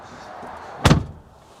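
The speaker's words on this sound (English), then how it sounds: "If we hop aboard, and close the door." The door of a 2020 Ford Transit Mk8 EcoBlue van swings shut with a single solid, close thud and a brief dull ring-out afterward.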